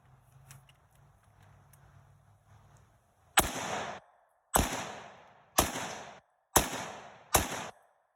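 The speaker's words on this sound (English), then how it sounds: "here's the shooting" Five loud, sharp rifle shots from an AK-pattern rifle fitted with an EOTech sight, fired in quick succession about a second apart, each followed by a short echoing decay, after a few seconds of quiet background.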